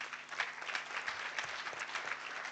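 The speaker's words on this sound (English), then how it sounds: "let us have a round of applause for the many people who have been on stage" Dense, steady applause from a conference audience at the opening of the Forum on Internet Freedom in Africa 2025, many hands clapping together at moderate distance, filling the short stretch without pause.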